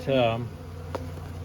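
A short, close buzz of a honeybee flying past near a hive, lasting under half a second, followed by quiet background hum.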